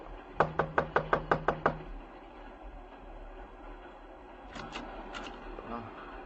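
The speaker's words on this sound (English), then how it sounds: "Just knock on the door." Eight quick, sharp knocks on a door in an even rhythm, followed by a few fainter taps over low background rumble.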